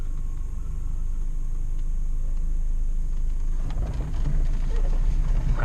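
A manual Volkswagen Jetta creeps off in first gear with no throttle as the clutch comes up, a steady low engine rumble and road noise that swells slightly toward the end.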